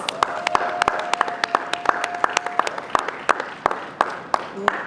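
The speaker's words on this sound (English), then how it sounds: "join me in giving everyone that's here today a round of applause" Audience at a parenting expo gives a round of applause: sparse, sharp individual claps ring out steadily, fairly close and loud, with a brief steady tone under them.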